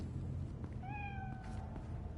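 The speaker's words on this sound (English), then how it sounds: "It's another kitty cat!" A cat in the Cyberpunk 2077 video game lets out a single clear, drawn-out meow, close and moderately loud, over a quiet steady game ambience with no talk.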